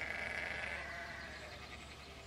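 Sheep bleat steadily as they are hurried through a gate while being herded, a dense flock chorus that stays close and fairly loud with no pauses and no talk over it.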